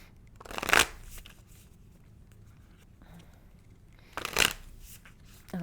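Oracle card deck being shuffled by hand indoors: two short, crisp riffling bursts a few seconds apart, close and fairly quiet, with no talk between them.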